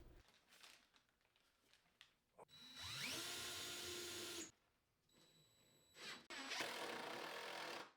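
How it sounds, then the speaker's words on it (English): A power drill drives long screws into wall studs while a built-in oak closet is fastened in place, two sustained whirring bursts that ramp up in pitch, with clicks and pauses between. "I use some long screws to fasten into the wall studs"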